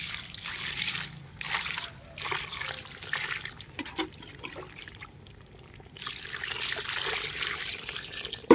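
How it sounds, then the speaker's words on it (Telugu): Water poured onto hardened red soil in a pot prepared for planting water lilies, splashing and trickling in several bursts with short pauses between pours. "మనం వాటర్ వేసి"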